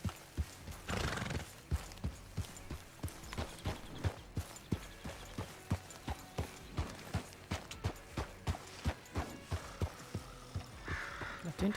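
A horse in Red Dead Redemption 2 neighs near the start and then trots with a steady, even clip-clop of hooves that runs throughout, with some breathy snorting.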